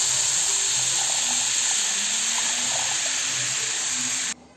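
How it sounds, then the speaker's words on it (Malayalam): Squeezed tamarind water poured into a pan while making puli inji, a steady watery hiss that runs evenly for about four seconds and then stops abruptly. "അവ നല്ലപോലെ ഒന്ന് പിഴിഞ്ഞ് അതിൻ്റെ വെള്ളം ഒഴിച്ച് കൊടുക്കാം."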